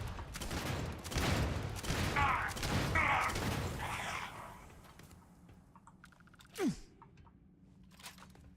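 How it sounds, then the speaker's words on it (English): Enemy gunfire from a window in the video game Starfield crackles in dense, rapid bursts for the first few seconds, then falls away to a quieter background with one sharp swooping sound near the end. "someone's shooting me up from the window"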